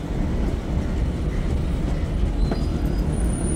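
A train running on the railway line near Chiplun, a loud continuous rumble of wheels on track with a brief squeal of wheels and a faint high whine.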